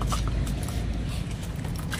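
Keys to a Toyota Innova jingle with light metallic clinks in short bursts, close by over a low background rumble, no talking.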